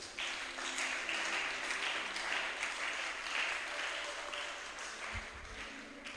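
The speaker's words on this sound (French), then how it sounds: "Acclamez d'abord le Seigneur Jésus" Congregation in a church applauding steadily and cheering, a dense, continuous wash of clapping that holds at an even level throughout with no speech over it.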